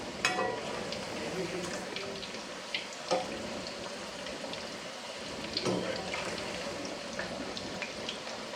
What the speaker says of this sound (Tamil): இதை வந்து நல்லா கோல்டன் ப்ரௌன் ஆகிற வரைக்கும் ஃப்ரை பண்ணி எடுத்துக்கோங்க